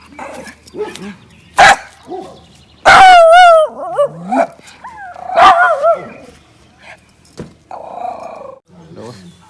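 A puppy at a family campsite gives several sharp yips and barks with some whimpering, loud and close, mixed with people talking around it.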